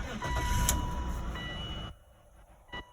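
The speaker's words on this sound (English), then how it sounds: "Now let's go ahead and turn on this car." A BMW E39 engine cranks and catches near the start, a loud running rumble that then drops away to quiet cabin hum, with a short clunk near the end.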